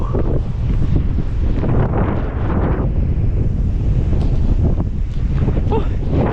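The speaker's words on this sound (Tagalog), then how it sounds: "Ang lakas ng hangin." Strong, steady wind buffets the microphone with a constant low roar throughout, with faint distant surf underneath and no talk.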